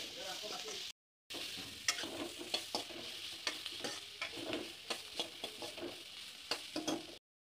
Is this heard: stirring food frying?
yes